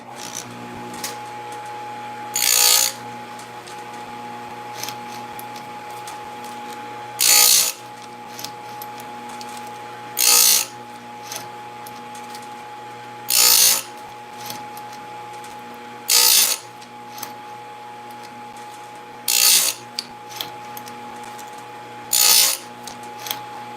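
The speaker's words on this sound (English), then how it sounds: "let me get into cutting some more of this and sharpening the chains" Chainsaw chain sharpened tooth by tooth with a powered grinder, heard as seven loud, brief grinding bursts spaced evenly every few seconds over a steady motor hum, close and with no talk.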